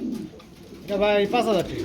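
Large fancy pigeons coo nearby in two short rolling bursts, loud and clear after a quieter start with faint background sound.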